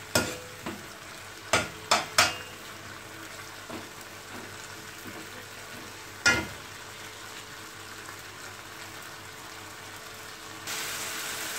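Brinjal frying in a pan, stirred with a spoon: a few sharp scraping clinks in the first seconds and another later over a soft, steady low sizzle.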